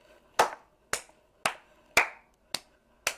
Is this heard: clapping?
yes